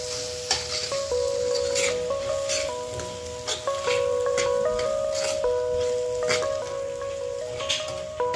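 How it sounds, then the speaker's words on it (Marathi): Spice masala with coriander powder, salt and turmeric fries in a pan, a steady sizzle broken by repeated scraping stirs of a spoon, close and clear, with a faint background tone running throughout. "चला आता हा मसाला पण छान तळून घ्यायचा आहे."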